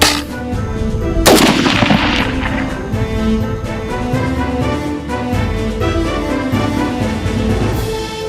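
Automatic weapon fire rattles in rapid, dense bursts, loud and sustained with one sharper blast early on and echoing reports throughout, with no talking.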